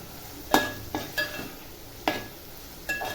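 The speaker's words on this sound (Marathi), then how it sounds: "आता हे कडधान्य टाकते मी कडधान्य पण छान असे परतून घ्यायचे" Mixed sprouts are sautéed in a pan with softened tomato, a few spaced spatula strikes and scrapes against the pan over a low sizzle, close by.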